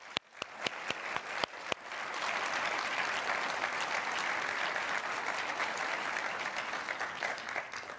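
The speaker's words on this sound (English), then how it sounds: "applause." An audience at a cleantech innovation awards ceremony breaks into applause: a few sharp early claps swell quickly into a sustained, full round of clapping that carries on steadily to the end.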